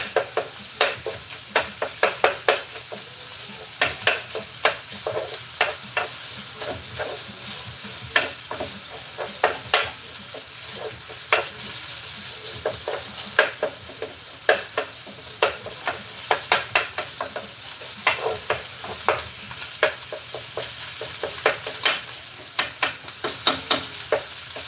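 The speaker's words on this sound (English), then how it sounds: "Taking some meat, cooking the sausage down." Sausage meat for chili sizzling in a pan while being stirred, with steady frying hiss and frequent sharp scrapes and clinks of the utensil against the pan, close and alone.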